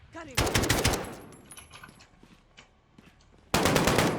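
Bursts of automatic machine gun fire in the Call of Duty: Modern Warfare video game, a loud sustained burst at the start and another at the end, with scattered quieter shots and game noise between them.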